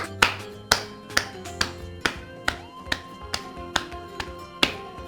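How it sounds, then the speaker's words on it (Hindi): A pair of hands claps in a steady rhythm, about a dozen crisp, close claps spaced roughly half a second apart, with no talking. "जब तुम हाथों से ताली बजाते हो तो एक ध्वनि उत्पन्न होती है।"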